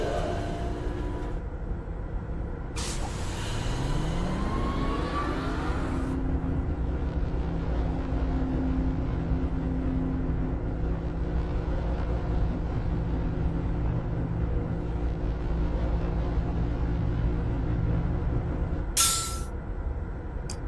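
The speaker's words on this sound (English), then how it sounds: "Exhaust and ding." Exhaust-like hiss and a ding clue in the Myst video game, heard as a steady mechanical rumble with rising and falling tones, a burst of hiss near the start and a brief high ding near the end, with no talking.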